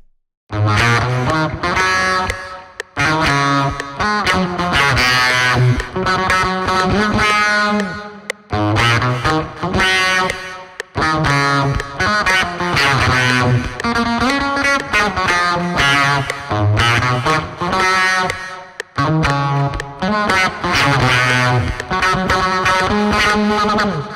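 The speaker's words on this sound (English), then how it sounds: "Also Fruity Reverb 2." A distorted synth guitar plays a continuous loud melodic line, washed in Fruity Reverb 2 reverb, with a few brief pauses between phrases.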